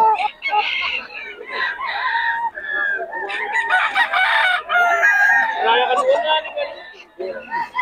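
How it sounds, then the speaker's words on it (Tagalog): Roosters crow repeatedly and overlap amid a dense chorus of clucking hens at a poultry market in Bocaue, loud and close, with no break in the racket. "Nagugulang na mga manok ni Boss Joseph, mga idol."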